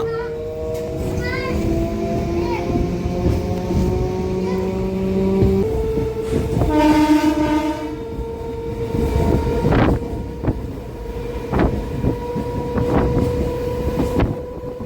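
A MEMU passenger train on the Machilipatnam to Vijayawada line runs between stations, a continuous rolling rumble with sustained tonal hums, while children's voices and other chatter sound inside the carriage.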